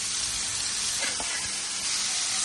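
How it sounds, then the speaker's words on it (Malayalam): Masala-coated fish fries in a pan over ginger, garlic and curry leaves, a loud, dense, steady sizzle close up, with a couple of brief bumps partway through as pieces go in. "നമ്മുടെ ഇഞ്ചിയും വെളുത്തുള്ളിയും കറിവേപ്പിലയും ഒന്ന് ചൂടായി കഴിയുമ്പോഴേക്കും നമ്മൾ മസാല വരട്ടി വെച്ചിരിക്കുന്ന മീൻ അതിന്റെ മേളിലേക്ക് ഓരോന്നോരോന്നിട്ട് എടുത്ത് വെക്കുവാണ്"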